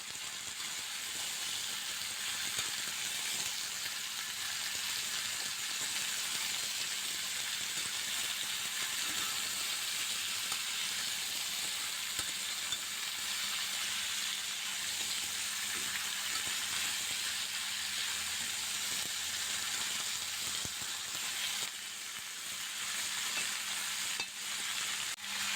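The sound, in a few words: stirring potato and pumpkin with salt and turmeric in pan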